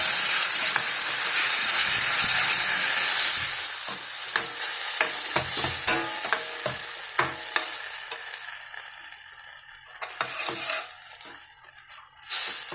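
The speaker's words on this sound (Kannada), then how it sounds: "ಒಂದ್ಸಲ ಮಿಕ್ಸ್ ಮಾಡೋಣ ಚೆನ್ನಾಗಿ" Masala stirred and fried in a pan starts as a loud, steady sizzle, then thins into repeated spoon scrapes and clinks against the pan, with the hiss fading in and out and no one speaking.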